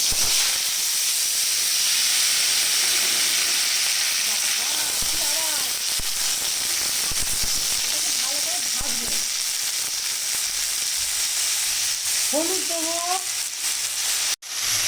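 Chopped vegetables fry in hot oil in a kadai. A loud, steady sizzling hiss runs throughout, with brief bits of a speaking voice under it, and the sound cuts off abruptly at the end.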